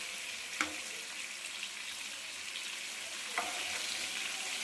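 Chicken pieces for biryani fry in hot oil with a steady, close bubbling sizzle. Two brief clicks of utensil contact break through the sizzle.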